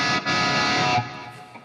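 Distorted electric guitar played through a Fractal modeler dialed in for a classic rock tone, one loud, saturated chord ringing for about a second after a short break, then decaying into a fading tail.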